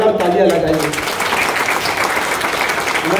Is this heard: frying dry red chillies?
no